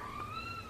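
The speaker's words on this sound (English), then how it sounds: "I hope you guys don't mind my cat." A house cat gives a single drawn-out meow, close and clear over a low indoor room hum.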